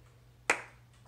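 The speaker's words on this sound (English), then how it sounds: "let me clap again" A single sharp hand clap rings out close by in a quiet room, with a low steady hum underneath and a short decay after the strike.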